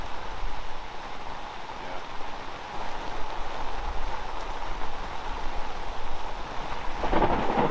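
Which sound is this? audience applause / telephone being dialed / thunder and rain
thunder and rain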